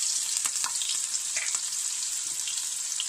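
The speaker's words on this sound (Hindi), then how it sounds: "ये तेल हमारा गरम होके तैयार हो गया है। अब हम इसमें डालेंगे जिंजर गार्लिक पेस्ट" Coarsely ground ginger garlic paste and green chili frying in hot oil for chili potato, a bright, dense, continuous sizzle heard close up with a few faint stirring clicks and no talking.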